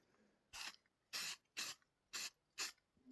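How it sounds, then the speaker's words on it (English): Five short bursts of satin black aerosol spray paint, evenly spaced hisses about half a second each with quiet gaps between, close and fairly loud. "I had this handy, satin black spray paint"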